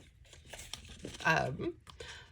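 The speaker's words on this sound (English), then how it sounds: "tear the paper and then end up trimming it" Paper being torn in a couple of short ripping bursts, close by, with a voice talking over it.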